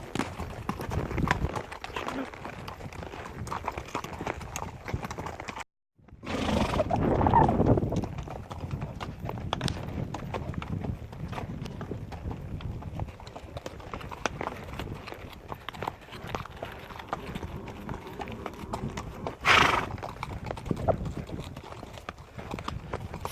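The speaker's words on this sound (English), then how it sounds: "They move off the trails when the horses come through." Horses clip-clop steadily along a trail, hooves thudding in a continuous walking rhythm close by, with occasional outdoor noise and a brief pause.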